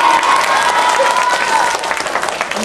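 Children at an elementary school magic show clap their hands loudly in a sustained burst, a bright dense patter of many hands with light crowd noise, easing slightly toward the end.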